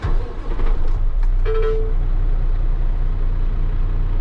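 A truck with an Eaton Endurant XD transmission driving bobtail, heard from inside the cab: a loud steady low engine drone, with a brief short tone partway through and faint clicks, no talking.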